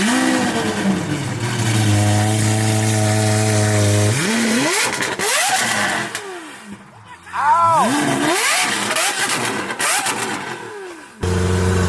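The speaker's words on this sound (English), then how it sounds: "Let me get this cold start." At a car meet, a loud engine cold-starts after a steady idling drone, then revs hard several times in rising and falling sweeps, close by and brash, with no clear talking.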